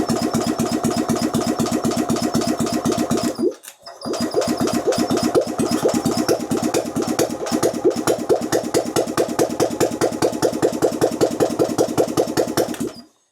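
A Steyr Puch engine, long unused, cranks over and over in a fast, steady rhythm without catching, pausing briefly once before cranking again for a long stretch.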